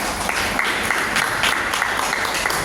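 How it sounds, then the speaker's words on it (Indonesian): An audience at an indoor talk show claps steadily for a guest speaker being introduced, a dense, even wash of many hands sustained throughout with no pauses. "Kita beri aplaus untuk beliau."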